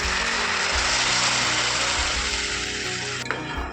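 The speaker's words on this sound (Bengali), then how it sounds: "একটুখানি ঝোল দিয়ে দিচ্ছি" Hot water poured into a pan of fried potatoes for banana kofta curry sets off a loud, steady hiss and sizzle that fills nearly four seconds, with a brief clink near the end.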